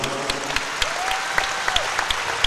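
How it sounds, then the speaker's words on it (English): Audience applause at the European Weightlifting Championships 2023, men's 81 kg event, as an injured athlete walks off; scattered claps over a steady crowd bed with a brief tonal whine in the middle, moderately loud and continuous. "Gets an applause from the audience"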